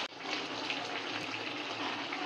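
Water poured into simmering chicken masala in a home kitchen, a steady continuous gushing pour that stays even and fairly loud throughout, with no voices.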